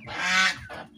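Geese honk twice in quick succession, a loud nasal call followed by a shorter second one, close by.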